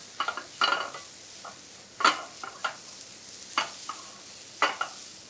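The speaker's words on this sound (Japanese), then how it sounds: "で先ほどの春菊の枝を入れます。 そして一緒に炒めます。" Garland chrysanthemum stems are stir-fried in a pan with adzuki beans for a warm salad, giving soft sizzling and repeated sharp scrapes and taps of the utensil against the pan, close and without speech.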